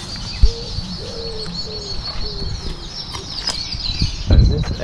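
Pigeons coo repeatedly in a garden bird sanctuary beside a cathedral, soft rolling calls in a steady series over outdoor chirps and ambient noise, with a few louder knocks and rustles nearby.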